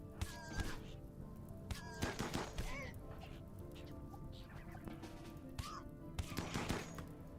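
Scattered gunshots from colonists firing in a survival colony game, sharp cracks at irregular intervals over a steady low background hum, with a few honking, bird-like calls mixed in.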